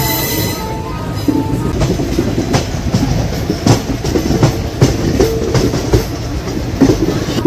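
The Tirupati–Puri Express rolls along after leaving Vijayawada Junction, loud and close, with rhythmic clickety-clack of wheels over rail joints, rumbling carriages and occasional metallic squeals, no voices.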